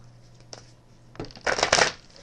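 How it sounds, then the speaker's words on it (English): A deck of oracle cards is shuffled close by: a few light taps, then a quick riffling flurry of papery flicks that builds and stops. "I'm just giving these a shuffle real quick to get them ready"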